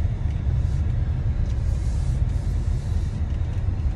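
A Jeep Compass Trailhawk drives slowly and pulls in, giving a steady low engine and road rumble heard from inside the cabin, continuous and even with no talk.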